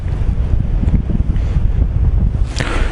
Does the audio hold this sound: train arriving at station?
no